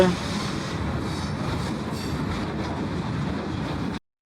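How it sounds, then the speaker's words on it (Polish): A PKP ET22 electric locomotive hauling a train rolls past close by with a loud, continuous rumble and rattling wheels, then the sound cuts off abruptly. "głos jest tutaj pociągu dość duży"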